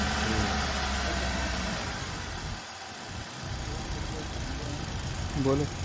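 A Hyundai Grand i10 Sports car engine idles steadily in a low, continuous hum throughout, with a brief rise in pitch near the end and voices talking over it.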